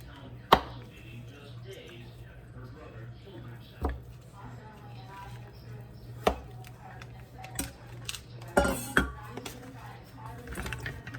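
A knife chops food on a cutting board while preparing a home dinner of brie chicken, sautéed green beans and mashed potatoes. Sharp, irregular chops come close by, spaced a second or more apart, with a few quicker clusters.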